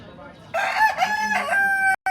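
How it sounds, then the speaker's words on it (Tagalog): A fighting cock, a white streamer gamecock, crows loudly and close by in one sustained, harmonic cock-a-doodle-doo that ends abruptly, with faint background noise beforehand. "Yan ang mga manok."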